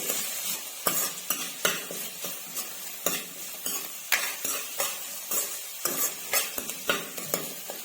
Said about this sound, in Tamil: ரெண்டு மீடியம் சைஸ் வெங்காயம் இந்த மாதிரி பொடி அடிக்க நறுக்கி வச்சுருக்கேன் அதையும் சேர்த்து நம்ம நல்லா வதக்கிக்கலாம்